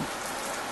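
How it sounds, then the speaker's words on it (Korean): Rain pours down as a story sound effect: a dense, loud, even hiss of falling drops filling the whole short moment, with no voices. "후두둑 떨어지는 빗소리"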